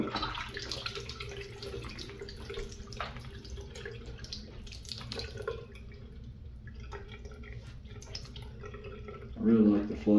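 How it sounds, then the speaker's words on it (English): An ELT Consaul toilet flushes, with steady close rushing and draining water running throughout and a brief louder gurgle near the end. "I really like the flush on it."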